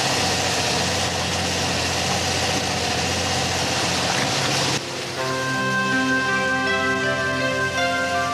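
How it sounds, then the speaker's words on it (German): A 1978 sailing boat motoring near Bornholm after the wind dropped gives a steady, close engine drone that idles evenly throughout, with no voices. "wir mussten 2 Stunden unter Motor laufen, um noch abends in Hasle anzukommen."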